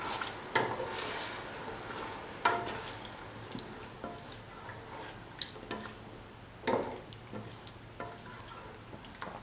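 Spoon stirring chicken stew in a pot, a quiet scrape and wet squish with a few sharper clinks against the metal at irregular intervals, no voices.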